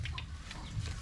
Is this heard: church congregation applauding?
no